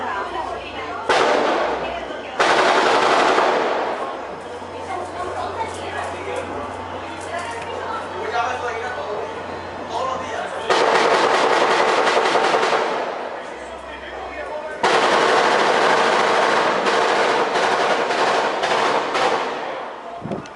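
Bursts of gunshots fired into the air at a New Year's Eve celebration in Trujillo Alto, crackling in dense rapid volleys, some loud and close, others farther off, with people talking and chattering between them.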